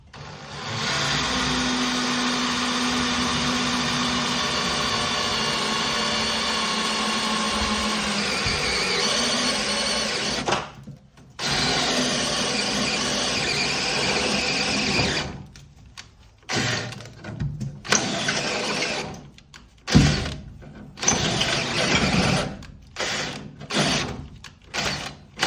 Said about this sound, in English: These step bits, they just drill through these